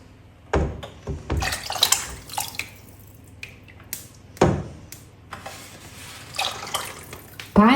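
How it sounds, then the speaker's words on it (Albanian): A starch, sugar and water mixture for traditional revani is poured into a pot of melted butter, giving close, intermittent splashes, drips and soft clatters with quiet gaps between them. "Gjithë sasinë e niseshtes me sheqer e ujë që përgatitë do e shtojmë në tenxhere."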